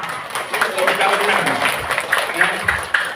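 An audience at an Islamic religious lecture at a pesantren bursts into brief applause: steady, dense clapping from many hands that fills the room for a few seconds before fading.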